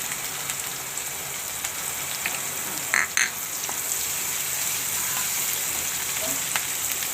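Onion frying in a pan with oil for a green bean curry, a steady, fairly loud hiss and crackle running throughout with a couple of brief clatters near the start.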